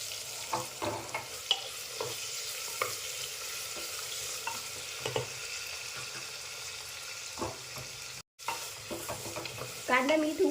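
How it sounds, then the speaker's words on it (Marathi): Onion and potato sautéing in a pan for spinach pulao, a continuous close sizzle with intermittent spatula scrapes and stirs, briefly cut to silence near the end, no voices. "कांदा लाल सरासं परतून घ्यायचा आहे"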